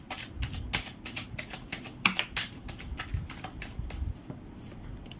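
Tarot cards are shuffled by hand in quick, crisp riffling bursts, a rapid run of dry paper flicks and taps, fairly close and soft, with no talking.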